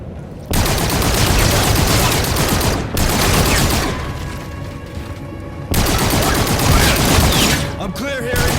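Heavy gunfire in Call of Duty: Infinite Warfare comes in long, loud sustained bursts broken by brief pauses, close and dense, with faint mechanical sounds in the gaps.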